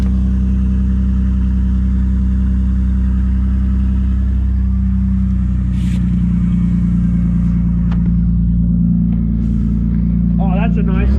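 A loud car engine with a straight pipe running straight off the catalytic converter idles with a deep, rough exhaust rumble, steady throughout, with brief rising revs hitting the rev limiter near the end.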